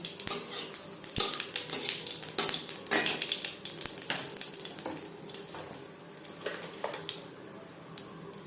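Whole cumin seeds and chillies frying in refined oil in a pan, a busy sizzle under repeated metallic scrapes and clinks of a spoon against the pan, close and fairly loud, easing off toward the end.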